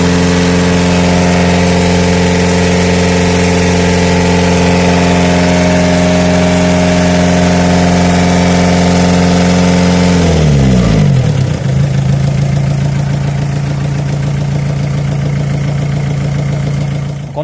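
A Renault Scenic 1.9L DTI diesel engine idling steadily and loudly after a water pump replacement, its low hum shifting midway through as the revs settle into a slightly different steady idle.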